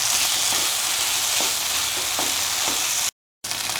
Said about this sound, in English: Stir the tomatoes and the potatoes and the rest of the mixture for around